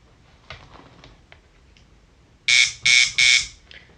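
A tattoo machine from a kit fires in three loud, harsh buzzing bursts close by, with faint clicks and ticks before them in an otherwise quiet room.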